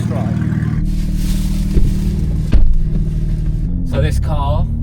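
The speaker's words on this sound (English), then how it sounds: "Let's take it out for a little test drive." A BMW X4 M runs up to speed on a test drive after an engine swap. The engine note rumbles and rises through a few revving bursts, with some short knocks and a voice heard briefly.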